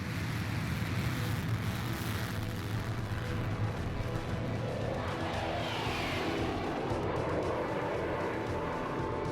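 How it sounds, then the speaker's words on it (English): F-104 Starfighter jet engine running with afterburner lit, a loud continuous roaring rumble with a rising whoosh as the aircraft passes, steady and dense throughout. "The insertion of the afterburner really adds thrust."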